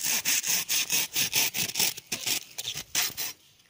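Rhythmic back-and-forth strokes of a hand saw biting into a tree branch during pruning, about a dozen rasping pulls, close and steady, slowing near the end.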